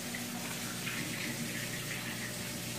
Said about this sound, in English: I'm doing the water change on that.